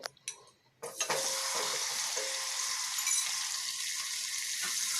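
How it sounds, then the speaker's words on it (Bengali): Potatoes coated in salt and turmeric hit hot mustard oil over low-to-medium heat, bursting into a loud steady sizzle after a few clinks of utensils against the pan. "আলুগুলোকে ভাজা বসিয়ে দিচ্ছি"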